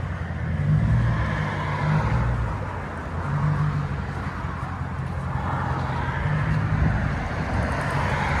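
A Dodge Challenger R/T with a 5.7L HEMI V8, Carven exhaust, mid-muffler delete and quad tips gives a loud, steady, deep exhaust rumble with slight swells in level.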